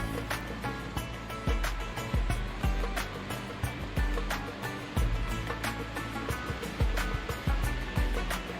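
Water flowing in Bolan Valley rushes loudly and steadily close by, a broad churning roar with repeated splashing surges and thumps every second or so, and no one speaking over it.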